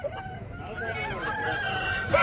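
A rooster crows once at a rooster market in Nallapadu near Vijayawada, a drawn-out call rising and falling over a low murmur of market background.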